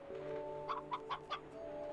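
A chicken in the video game Slime Rancher gives four short, quick clucks, close and fairly clear over a soft tonal game-music background.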